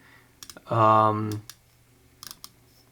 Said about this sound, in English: the clicks are very audible with a perfect sound, and they are also very tactile, so you can easily feel every single click